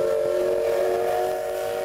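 The historic 1936 steam locomotive CK-124, running on an old mountain line in central Taiwan, sounds a loud, steady steam whistle that holds as one sustained tone over the train.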